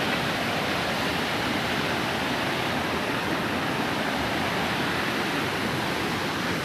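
Flood water from heavy storm rain rushes loudly under a bridge, a dense, constant roar of churning water with no pauses.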